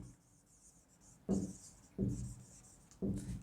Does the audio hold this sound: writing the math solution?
yes